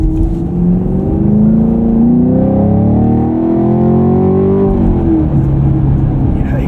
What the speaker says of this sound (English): Yeah, the exhaust gets loud in track.